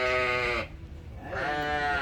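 A goat bleats twice at a livestock market, a loud, close, wavering call followed by a brief gap and a second shorter bleat.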